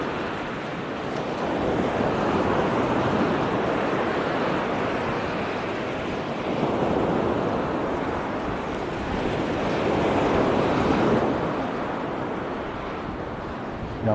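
Surf waves wash onto the beach at Kumköy near Side in Turkey at sunset, with the water running high. Broad rushing swells rise and fall continuously over the whole stretch, steady and fairly loud with no talking.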